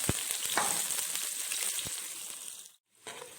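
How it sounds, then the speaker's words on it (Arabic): Onion sautés in oil in the same pot just used for frying taro, giving a loud, steady close-up sizzle that cuts out briefly near the end before resuming. "طبعا هنشوح البصلايه دي هي كمان"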